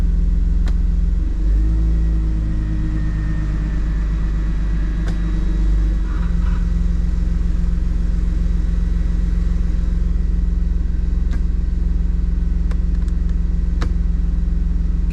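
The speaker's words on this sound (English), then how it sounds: "Oh, I think I definitely hear an exhaust leak." A Mercedes C36 AMG engine runs with an exhaust leak, giving a steady, loud, low rumble. A deeper throaty rise holds for a few seconds early on, then the engine settles back to an even drone.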